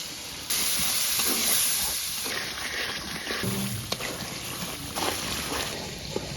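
Spice paste with ground spices, salt and green chillies sautéing in a pan for a beef curry, a steady close sizzle and hiss with occasional stirring scrapes and light knocks throughout.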